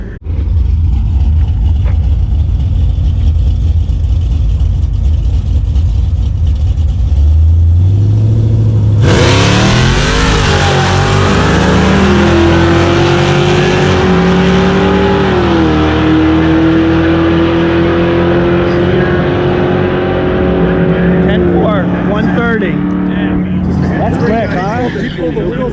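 A Dodge Charger R/T with a naturally aspirated 440 stroker V8 barks to life after a low idle, then revs hard and holds high, wavering pitches before easing off, loud and close, with people talking.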